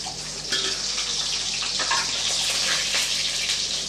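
Peeled, chopped small shallots sizzle in hot oil with fennel seeds for an egg curry, giving a steady, loud hiss and crackle that runs unbroken from start to finish.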